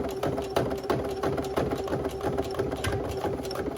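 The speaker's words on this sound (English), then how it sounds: "I'm going to use my machine to go backwards, and I'm getting in that exact same line" A sewing machine runs backward over a reusable shopping bag, its steady, rapid mechanical stitching rattle loud and close throughout, with a constant motor hum underneath.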